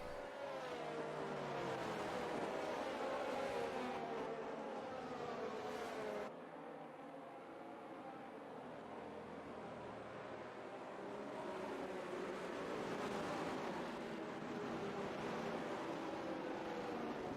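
Racing cars in a video game at the Bahrain Grand Prix circuit circle behind the safety car, their engines droning steadily at moderate loudness with a brief dip midway, no voices.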